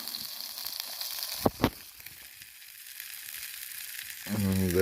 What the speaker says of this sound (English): there's the burger cooking away nicely